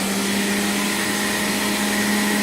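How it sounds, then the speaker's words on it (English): An electric juicer running on its highest setting while juicing fresh ginger, a loud steady motor whine and whir that holds constant throughout with no pauses or speech. "Turn the juicer on the highest setting."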